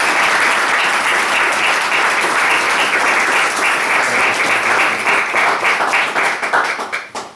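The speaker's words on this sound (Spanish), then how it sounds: "Yo pido un aplauso ya para los autores." A hall audience applauds the authors at a book presentation in Madrid, with loud, sustained clapping from many people that tapers off at the end.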